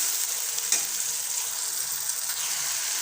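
Chopped onion and tomato sautéing in a pan for chilli kothu chapathi, a steady soft sizzle with one brief spatula tap, close and continuous without talk.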